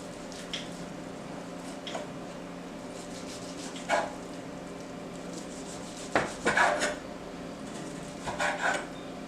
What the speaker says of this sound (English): So we're going to take our Italian beef over here. We're going to try to chop this down some a little bit.